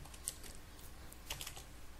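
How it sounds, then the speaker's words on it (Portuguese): Fingers tap a computer keyboard entering a code in short clusters of light clicky keystrokes, close but quiet, with no one speaking. "digitar aqui um código que você atribui"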